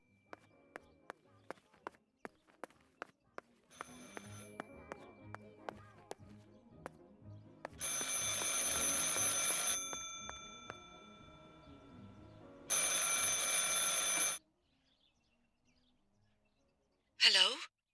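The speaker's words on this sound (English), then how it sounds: "I should pick up the phone but remain silent." A telephone rings twice in the horror video game Martha is Dead, two loud, sustained bell-like bursts separated by a pause, after a run of quiet tapping footsteps.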